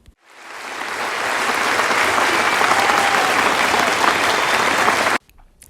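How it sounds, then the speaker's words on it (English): A crowd bursts into applause for essential workers, swelling quickly into a loud, even wash of clapping that holds steady for about five seconds and then cuts off abruptly. "Can we give them a round of applause?"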